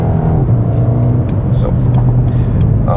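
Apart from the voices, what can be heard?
Mercedes-AMG A35 engine accelerating while driving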